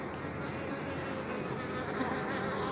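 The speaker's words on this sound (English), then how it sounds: "Look at these black bees" Dense steady buzzing of black bees around a feeder at a Jamaican apiary, close and continuous with no voices.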